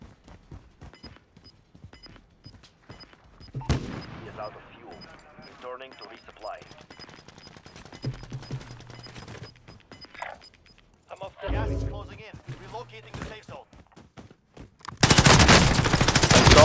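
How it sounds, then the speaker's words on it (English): Gunfire echoes through a Call of Duty Warzone match as a player takes sniper fire from behind. Scattered shots and bursts sound under ongoing voice chat, and a loud, dense burst of fire fills the final second or two. "I'm getting sniped from behind."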